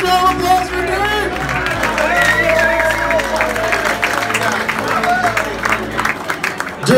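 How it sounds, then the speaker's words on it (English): Audience applause and cheering fill a hall at a celebrity chili cook-off in Roseville, steady and loud clapping with crowd hubbub that carries for several seconds and then thins near the end. "Round of applause for Dirk!"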